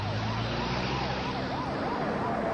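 Wailing sirens rise and fall repeatedly in overlapping cycles over a constant rumble of traffic, fairly loud and continuous.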